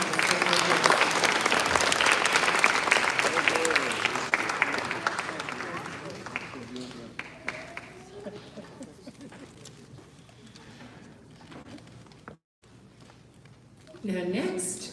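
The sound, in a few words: audience applause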